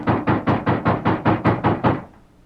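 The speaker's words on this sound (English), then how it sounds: "there was a loud knock on the door" A loud, close knock on a wooden door at a porch entrance in an old Western radio drama, nine heavy even raps in steady rhythm, heard alone with no talk.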